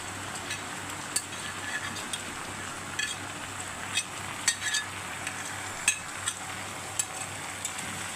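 Poppy seed paste simmers into an egg curry in a pan, giving a faint, steady sizzle with occasional soft pops and stirring clicks, no voices heard.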